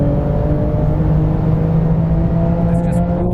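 A 700-horsepower Porsche 911 GT2 RS accelerates on the Nordschleife. Its engine holds a loud, steady, close drone with a strong low rumble and a high whine running the whole way through.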